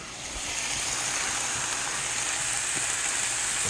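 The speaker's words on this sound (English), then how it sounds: "We have our mushroom sauteing really well." Mushrooms sauteing in a pot, a steady bright hiss of sizzling oil rising after the first half second and holding evenly, close and moderately loud with no talk.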